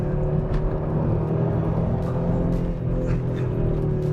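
A 2022 Audi RS3 engine drones steadily under load on a high-speed oval track, a continuous loud in-car hum with a few brief higher-pitched surges.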